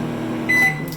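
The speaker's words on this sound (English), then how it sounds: "I don't like that final beep that the microwave does." A microwave oven hums steadily, then gives a single short, high electronic beep near the middle as it finishes heating.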